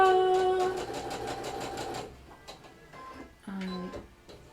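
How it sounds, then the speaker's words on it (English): A sewing machine stitches the seams of a reversible tote bag, a fast steady mechanical whir for about two seconds, then stops, followed by a few light clicks and a short second burst of stitching. "Just sew all your seams exactly the same."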